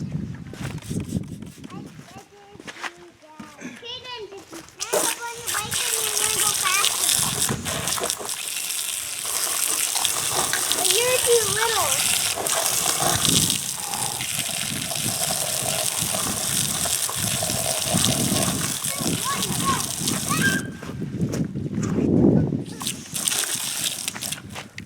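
Water mixed with biodegradable degreaser is sprayed onto Kawasaki KX 125 engine cases over a garbage can, a steady loud hissing, splashing gush that runs almost nonstop after a few quieter seconds of spattering.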